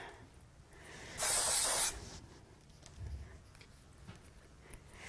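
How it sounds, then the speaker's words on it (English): A short, loud hiss of spray glue from an aerosol can lasting under a second, then quiet room tone with faint handling noises. "I'm just going to use a bit of glue, spray glue on these"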